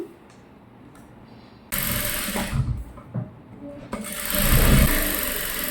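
A sewing machine stitches around the neckline of a young girl's gown, starting after a quiet pause and running in two loud continuous bursts.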